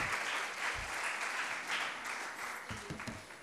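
Audience applause at an Urdu literary gathering in Karachi, welcoming the Arts Council Pakistan president to the stage: a steady wash of clapping that stays fairly even, with a few low thumps and faint speech underneath.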